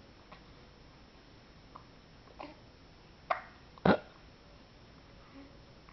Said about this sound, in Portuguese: Olha, tá só com soluço.